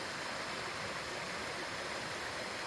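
A mountain stream near a waterfall in Puerto Galera flows in a steady, loud, broadband rush with no gaps and no voices.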